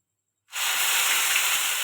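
Onions tipped into hot oil already tempered with whole garam masala, bay leaves and dried red chillies, starting with a sudden loud steady sizzling hiss that holds unbroken, close up and alone.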